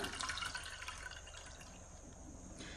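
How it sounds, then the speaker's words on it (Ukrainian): Brine is drained from salted red caviar through a sieve, a soft continuous trickle and patter of liquid, fairly quiet and close, with no voices. "Ось таким чином, через сито буду зливати воду."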